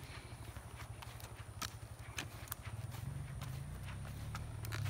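A horse's hooves clip-clop at a steady walking rhythm on a road, moderately close, with a faint low rumble building beneath them and no talking.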